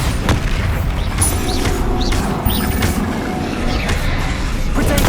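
Loud, dense spell combat in the video game Hogwarts Legacy, with a Bombarda blast booming through a steady roar of crashing effects while a voice shouts spell names.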